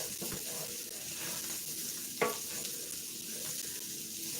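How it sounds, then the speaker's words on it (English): Skillet-fried spiced potatoes with onions being stirred and tossed, giving a continuous close sizzle with scraping stirs throughout and one sharper metallic scrape midway, no voices. "stir and toss, distribute, adjust taste"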